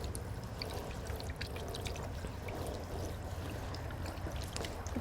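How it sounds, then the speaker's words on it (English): Water from a garden hose rinses a fish cleaning station in a steady, close splashing rush with scattered drips and spatters, continuous for the whole stretch with no talking. "You can hook your garden hose up to it and rinse that out really nice."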